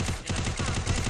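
Rapid bursts of video game gunfire, dense and loud, firing continuously in a quick rhythm for about a second.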